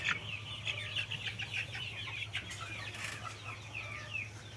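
A crowded brooding pen of GPS AKY broiler chickens fills the air with constant high chirping and clucking, steady and dense over a low mechanical hum.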